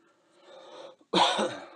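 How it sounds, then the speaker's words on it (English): A single gruff throat clearing after a stretch of quiet, low murmuring, ending in a loud, rough burst. "Clear my throat here."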